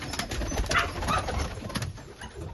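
Pigeons in a coop cooing softly and continuously, several birds layered together at moderate distance over a steady hum of background noise.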